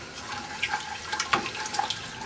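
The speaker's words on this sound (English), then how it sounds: "Add another bit of water." Water pours steadily into a cooking pot for a sausage casserole, a continuous splashing trickle with small irregular surges, moderately loud and with no talking.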